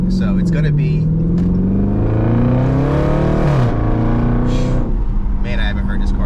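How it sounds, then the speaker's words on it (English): An aging Dodge car screams loudly as its engine revs, the pitch climbing, dipping and rising again, then falling away to a steadier idle, with someone talking over it. "man, I haven't heard this car scream like that in a while"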